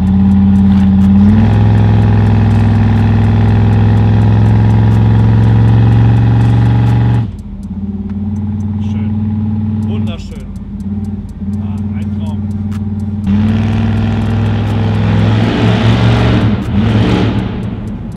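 A 50-year-old Plymouth Road Runner V8 revs loud and close through its exhaust, a deep steady rumble that dips to idle midway then climbs again; people talk over it.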